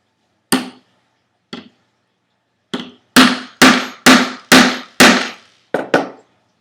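Sharp hammer strikes on a punch driven through Kydex sheet, two spaced hits, then a quick run of five heavy blows and two final lighter taps, close and loud.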